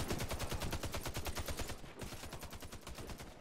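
Rapid automatic gunfire in the first-person shooter Warface, a dense rattling burst of evenly spaced shots that continues for several seconds with a short break partway through.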